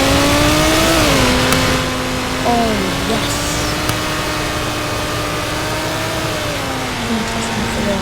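A car engine in the Roblox game Car Crushers 2 hums steadily and loudly, its pitch rising and dipping as it revs, running under a person talking throughout.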